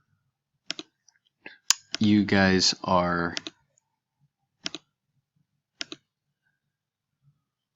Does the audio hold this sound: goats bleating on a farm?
no